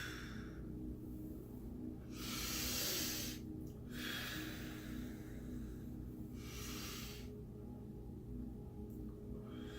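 A slow, deep breath during a relaxation breathing exercise, with soft airy inhales and long exhales that swell and fade in a calm, quiet room.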